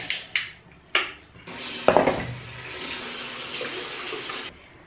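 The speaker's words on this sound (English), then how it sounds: "I like to wash off my face from the sweat" Tap water runs steadily at a sink while someone washes their face, with a few short splashes and bumps at the start and then a continuous close, hissing flow that cuts off near the end.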